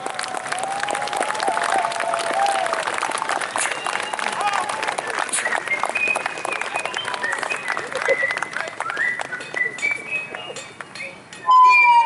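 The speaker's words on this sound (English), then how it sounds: "would you give them a round of applause?" Outdoor audience at a 1775 Battle of Great Bridge reenactment applauds arriving reenactor groups with steady, continuous clapping, some cheers and a few metallic clinks mixed in, ending with a brief louder burst.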